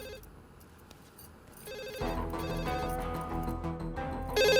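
A landline telephone rings indoors, starting faint, then swelling into a louder, repeating electronic ring pattern that grows stronger toward the end, with no talking over it.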